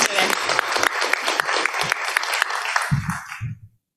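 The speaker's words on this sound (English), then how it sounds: "Let's give them a big round of applause" A conference audience claps together in a dense, even burst of applause lasting a few seconds before tapering off quickly, with a voice briefly audible near the end.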